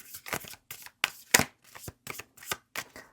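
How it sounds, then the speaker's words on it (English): Rapid bursts of tarot cards being shuffled, riffling and snapping in quick repeated rounds, close and crisp with brief pauses between. "Okay, one more shuffle."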